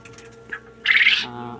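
Quail on a small farm give a brief chirp, then a short louder burst of squawking calls close by, over faint background noise.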